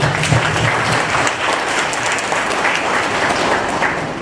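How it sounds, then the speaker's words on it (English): An audience at a motivational session applauds, a thick, continuous patter of many hands clapping at a fairly loud, even level from start to finish. "So a big round of applause to yourself."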